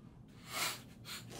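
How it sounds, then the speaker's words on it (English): Two quick, soft sniffs through the nose, close and quiet, with a brief pause between them. "Sorry for the sniffles."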